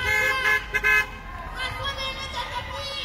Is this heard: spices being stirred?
no